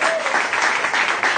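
A congregation applauding to acclaim the Lord during a church service, a dense steady wash of clapping with crowd voices mixed in, continuous and fairly loud throughout.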